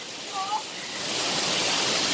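Ingleton waterfall pouring over the top edge, a steady broad rushing roar that builds slightly and stays continuous throughout, with a brief faint whistle-like sound early on.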